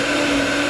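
A blender whirs steadily as it purées pozole sauce with pork broth, a short, constant, loud motor drone.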